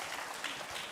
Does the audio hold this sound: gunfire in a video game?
no